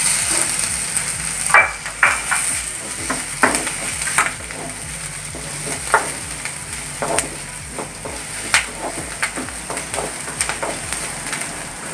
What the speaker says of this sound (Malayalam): ഇനി ഇതിലേക്ക് നമുക്ക് ഈ മുളക് വഴറ്റി കൊടുക്കാം കുറച്ച് കറിവേപ്പിലിട്ട് കൊടുക്കാം